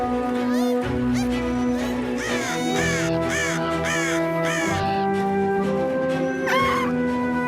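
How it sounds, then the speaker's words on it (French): Several crows in an animated cartoon caw repeatedly in harsh calls over steady background music, close and fairly loud throughout. "Wombly est en train d'éloigner les corbeaux."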